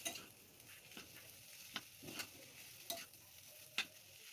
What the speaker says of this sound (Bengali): কিছুক্ষণ ভালো করে নেড়ে নেব।